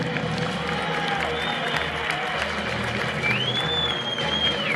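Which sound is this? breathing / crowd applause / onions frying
crowd applause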